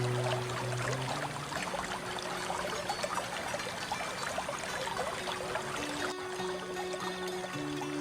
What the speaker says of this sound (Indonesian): Airnya pun tidak terlalu deras ya